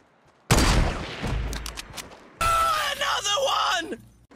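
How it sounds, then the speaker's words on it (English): Gunfire in a shooter video game, with a sharp burst of shots followed by a louder, denser stretch of game noise and what sounds like a scream; brief and close. "So we get another shot off, and it's not a headshot, it's a body shot"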